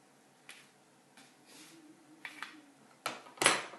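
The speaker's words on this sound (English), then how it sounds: "So with my fish slice, I'm going to transfer them over to the tray." Toasted sandwiches being slid onto a tray with a fish slice in a home kitchen: a few light scrapes and soft clinks spread out, ending in a sharper metallic clatter, with no talking.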